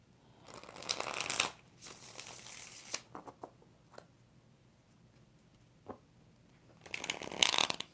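A deck of tarot cards is shuffled close up in rapid riffling bursts, a long one at the start and another near the end, with soft taps and card handling between them and no talk.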